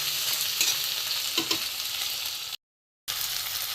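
Prawns frying in hot oil in a pan, a steady close sizzle with a few light stirring clicks, cutting to silence for half a second before the hiss resumes.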